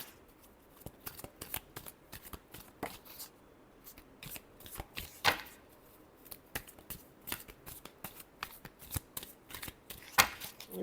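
Tarot cards are shuffled by hand in a string of quick, crisp riffles and soft slaps, irregular bursts with short pauses, close and fairly quiet, with no talking.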